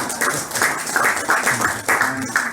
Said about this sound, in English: give a round of applause for this